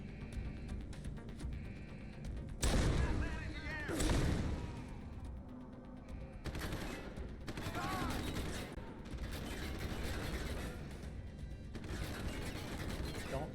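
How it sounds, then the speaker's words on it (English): Gunfire in the video game Deus Ex: Human Revolution crackles in repeated bursts over a busy mechanical game soundscape, quiet overall with a few louder shots. "Don't see who's shooting at me."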